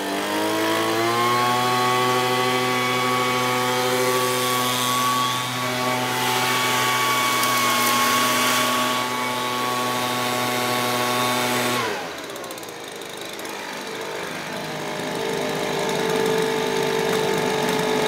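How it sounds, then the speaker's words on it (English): A Craftsman 25cc gas leaf blower vacuum engine drones loudly and steadily with a strong buzzing whine, then drops in pitch and roughens as it winds down, continuing at lower idle. "That's a Craftsman vacuum."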